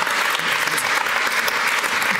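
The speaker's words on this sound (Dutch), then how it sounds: "Ik wil graag een heel hartelijk applaus." Audience applause at a Dutch evening panel event on data sharing for a healthier city, steady and dense clapping filling the room for a couple of seconds without talk.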